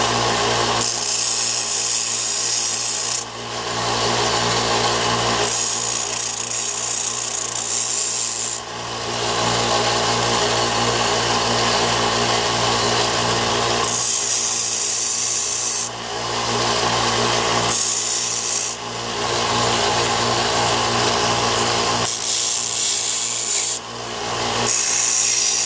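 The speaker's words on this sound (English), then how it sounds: "I'm gonna round these pins off just a hair where I cut them" A workshop tool rounds off the burred ends of freshly cut pins, making a continuous abrasive rasping grind broken by brief pauses every few seconds, steady and close, with no voices.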